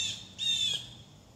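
Geese call outdoors over a property, two drawn-out honking squawks a short way off, the second longer and louder, above faint low background rumble.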